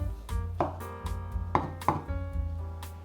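A knife chopping king oyster mushrooms on a cutting board, a series of distinct thuds at an uneven rhythm, close and clear with no talking.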